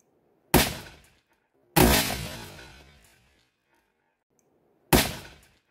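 A homemade science-project gun fires at a tin target, three sharp loud bangs, the second followed by a longer ringing decay, separated by silence.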